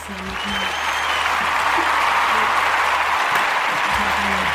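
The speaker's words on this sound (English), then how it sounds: "Yes, a round of applause." A small group applauds in a room, with steady clapping that rises quickly and holds at an even level. Faint voices murmur underneath.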